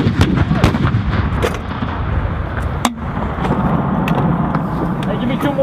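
U.S. Army artillery of the 4-319 firing during a field exercise, with loud, rapid booming blasts and rumble that fill the scene, mixed with shouting soldiers' voices.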